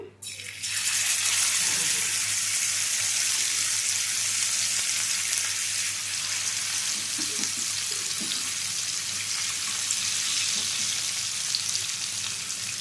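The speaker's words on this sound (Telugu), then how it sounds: "కడాయిలో అలాగే ఇప్పుడు మ్యారినేట్ చేసి పెట్టుకున్న మన ఫిష్లు యాడ్ చేసుకున్నాము" Marinated fish frying in oil in a kadai over a low flame, a strong continuous sizzle starting abruptly and holding steady and close for the whole stretch, with faint background sounds.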